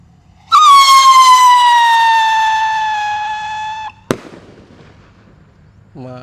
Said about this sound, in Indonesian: kita nyalakan roket pirotor kembang yang warna biru ya